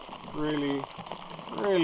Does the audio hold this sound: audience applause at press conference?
no